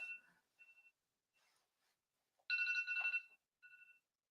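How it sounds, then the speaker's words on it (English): A phone alarm going off with short, repeated electronic ringing chirps, soft at first and then one louder sustained burst, each separated by silence. "That was the alarm that was actually supposed to wake me up"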